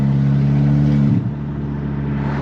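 A loud, close, low drone from a VW MK7 GTI fitted with a MAP downpipe, in comfort mode, swells in a short rev near the middle and then settles back to a steady rumble.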